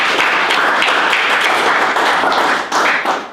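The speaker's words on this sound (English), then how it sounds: "Can we clap our hands to God for that?" A church congregation claps hands together in a dense, steady burst of applause, loud and close, lasting throughout without talk.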